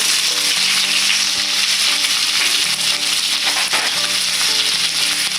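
Sliced big onions frying in a pan for chicken biryani give a loud, steady, dense sizzle throughout, with a soft melody playing beneath and no speech.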